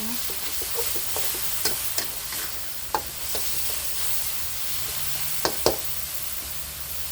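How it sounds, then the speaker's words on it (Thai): Baby corn, broccoli and chicken stir-fried in a pan with oyster sauce, a steady soft sizzle with scattered sharp clicks and knocks of the utensil against the pan, close and alone. "ผัดให้เข้ากันค่ะ"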